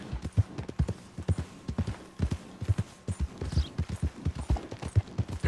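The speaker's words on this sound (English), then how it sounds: "Esse cavalo é bem bacana, cara. Tá relativamente rápido." Galloping horse hooves in Red Dead Redemption 2 pound in a steady, rapid clip-clop rhythm, loud and close throughout, with a faint background hum.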